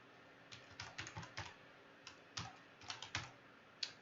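Soft, quick keystrokes on a computer keyboard entering a Google Sheet ID, irregular bursts of clicks with short pauses, quiet and close.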